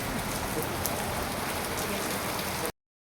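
Rain pouring down outdoors on a rainy day near a temple, a dense, loud, even hiss of drops on surfaces for under three seconds with no voices.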